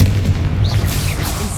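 Booming magical blasts from the Confringo explosive spell go off in the Hogwarts Legacy video game. The roar is loud, dense and sustained amid battle effects, with no clear speech on top.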